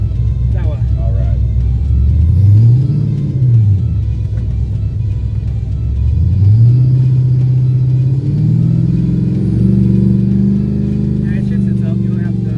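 A Ford F150 pickup fitted with a Chevy LS engine drives off with a deep, loud engine rumble that revs up, shifts and climbs again, close from inside the cab, with people talking over it.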